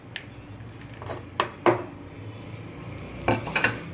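Pieces of fish being mixed with egg and masala in a bowl, heard as a few scattered clinks and scrapes against the bowl, close and moderately loud, with quiet gaps between them.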